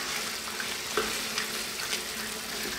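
Cream and freshly grated Parmesan stirred into a tomato vegetable pasta sauce in a pan: a continuous sizzling hiss with soft spoon scrapes and a few light knocks against the pan, no talking.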